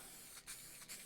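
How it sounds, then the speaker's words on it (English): Two short, light bursts of clear coat from a spray can, soft hissing puffs close to the surface over a faint steady background hiss. "So all we'll do is just spray it lightly on it."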